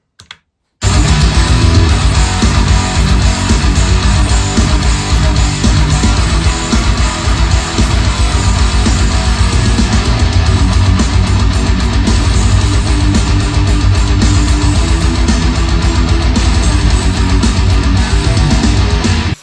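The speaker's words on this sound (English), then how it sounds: "The next thing that we kind of redid was the whole groove of the chorus, and it sounds like this." Metal band playing a reworked chorus groove, a dense, loud, continuous wall of distorted guitars and drums running unbroken after a brief silent start.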